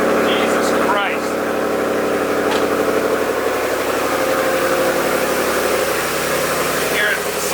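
A roughly 500-horsepower Ford Mustang GT V8 idles nearby, with a steady, throaty rumble and an airy intake suck layered over it, while a voice is heard faintly in the background.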